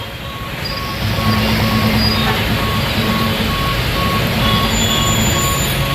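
A railway crossing gate at Wankaner Mill Plot closing, its electronic warning alarm ringing as a steady repeating tone over loud, continuous traffic noise from a jammed road.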